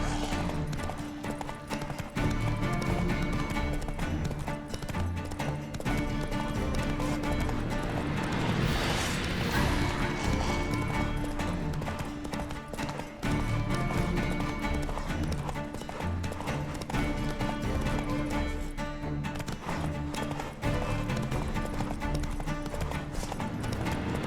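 Hooves of Roach, the horse in The Witcher 3, pound in a steady galloping clip-clop throughout, loud and close, layered with game ambience and music and an occasional snort.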